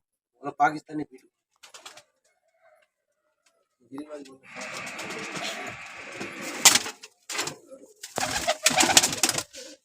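Giribaz and Rampuri pigeons coo in a backyard loft, soft throaty calls heard close amid shuffling and rustling, with people talking nearby.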